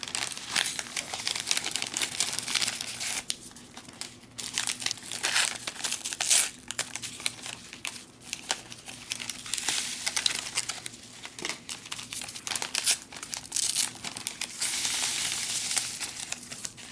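Steady crinkling of a plastic MRE pouch as dry drink powder is added, with soft rustles and crackles, close by and fairly quiet, continuing throughout with no talking.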